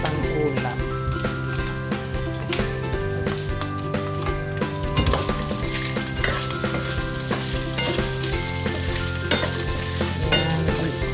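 Sliced pork fries in oil in a pan, giving a steady, loud sizzle with stirring and occasional clinks of the utensil against the pan, continuing without pause and with no talk.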